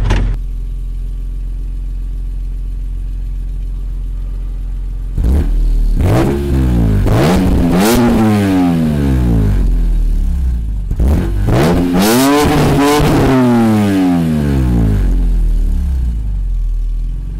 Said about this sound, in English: Let's do some revs.